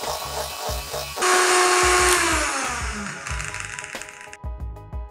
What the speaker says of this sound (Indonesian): Kocok sebentar hingga tercampur rata